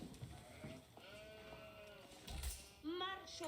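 Sheep bleating in Age of Empires IV, several wavering bleats from livestock in the game, faint and layered under a player's commentary and game sounds.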